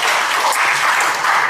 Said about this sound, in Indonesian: Kita tepuk tangan sekali lagi boleh?